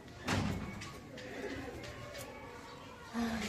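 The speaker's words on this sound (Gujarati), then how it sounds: "જો ઉડે કબૂતર આ ઘર કરે" Pigeons coo softly in short low phrases, with a brief thump and shuffling nearby; no clear speech.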